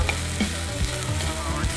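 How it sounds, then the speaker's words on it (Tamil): Onions and green chillies sauté in a pan with a loud, continuous sizzle, broken by repeated scraping strokes of a stirring utensil close by, with no voices. "இப்போ வெங்காயம் நல்லா வதங்கிடுச்சு"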